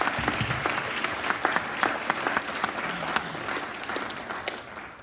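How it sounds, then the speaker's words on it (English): An event audience gives a round of applause for the evening's speakers: sustained, dense clapping with individual sharp claps popping out near the front, fading gradually toward the end. "So quick round of applause."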